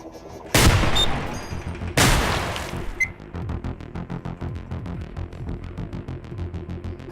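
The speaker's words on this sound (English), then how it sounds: "Okay, that's a turret." Two heavy, loud blasts from a video game turret, followed by a rapid, even stream of automatic fire pulsing steadily at close range, with no talking.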